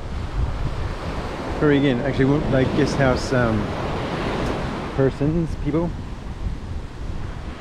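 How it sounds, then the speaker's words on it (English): Small, weak waves breaking at Senggigi beach on Lombok, Indonesia, a steady broadband surf wash with wind noise on the microphone, while someone talks over it throughout. "the waves are small"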